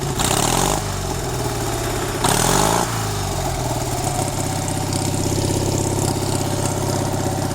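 A Cub Cadet 682 lawn tractor engine with a custom-made stack exhaust runs loud and close, chugging at idle with two brief throttle blips early on before settling into a steady throb.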